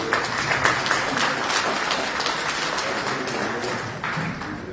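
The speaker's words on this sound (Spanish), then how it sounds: "este aplauso fuerte para el ingeniero." An audience at a talk claps for an engineer, a dense, fairly loud round of applause that holds steady and thins slightly toward the end.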